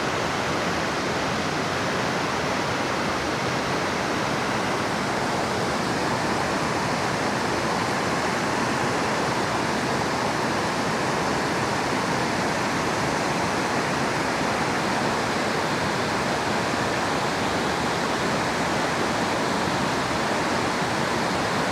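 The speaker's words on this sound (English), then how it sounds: "Just a cascade of water everywhere." Wildhorse Falls in Idaho cascades down in a loud, unbroken roar of rushing water, steady and close throughout with no voices.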